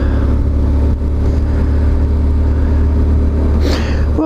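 Engine of an old BMW R1150GS motorcycle while riding, a loud, steady low rumble with wind buffeting, close and continuous throughout.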